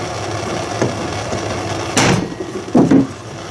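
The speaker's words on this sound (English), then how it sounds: "it seems like it's hammering down pretty hard there." Bearings are hammered into a part of a Stihl TS400 cut-off saw in a workshop, with a few sharp metallic knocks spaced irregularly over steady background noise.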